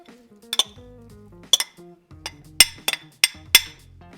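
Metal spoon clinks against a pot while shredded cheeses including mozzarella are stirred into a lobster mac and cheese mixture, giving a series of sharp, bright knocks in irregular pairs over soft scraping, with no voices.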